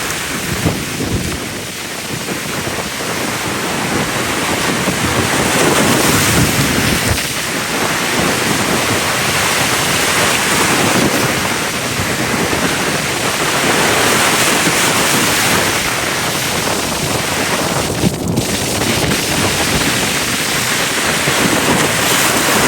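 Strong, fast storm-driven sea waves at Keerimalai beach in Jaffna make a dense, continuous roar that swells and eases without a break, close and loud, with no voices.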